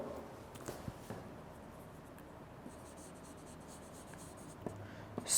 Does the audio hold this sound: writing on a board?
yes